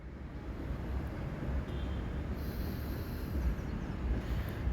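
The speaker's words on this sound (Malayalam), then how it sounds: "വലിയ ഗ്യാസ് ഗുഡ്സ് ട്രെയിൻ ഗൂഡ്സ് ട്രെയിനാണ് പോയിക്കൊണ്ടിരിക്കുന്നത്" Steady low rumble of a heavy gas goods train rolling past a railway overbridge construction site at Padannakkad, Kasaragod, continuous and fairly loud throughout with no voices.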